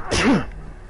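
A single sharp human sneeze, close and loud, bursting suddenly and fading within half a second.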